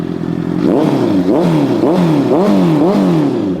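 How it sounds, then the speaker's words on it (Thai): A 2018 Honda CBR650F with a titanium exhaust, warmed up, idling then revved repeatedly in several rising and falling bursts, loud and close with a raspy four-cylinder tone. "เป็นไงท่อไทเทเสียงสุดยอด"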